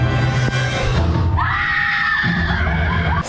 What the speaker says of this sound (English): Screaming, cheering, loudness at 7:30 in the morning.